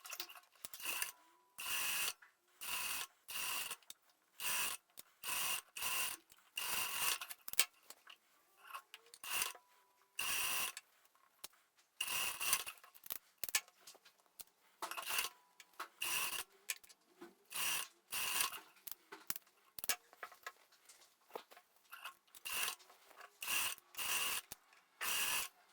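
A sewing machine stitches the seams of a pair of shorts made from scratch, running in many short mechanical bursts with brief pauses between them, close and fairly quiet, with no talking.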